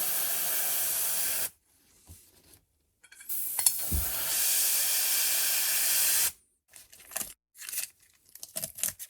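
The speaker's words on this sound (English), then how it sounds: "to spray some stripes on his legs." Bursts of spray paint hissing onto masking-taped stripes on a miniature figure's legs, several separate sprays of a few seconds each, close and steady, with short pauses and small handling clicks between them.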